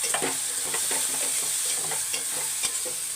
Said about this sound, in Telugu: కార్ చిల్లీ పౌడర్ వేస్తాను ఒకసారి కలుపుకోవాలి